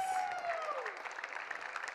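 Faint, brief applause from an audience at the Imagine Cup award presentation, a soft patter of clapping heard at a distance with a falling tone sweeping over its start.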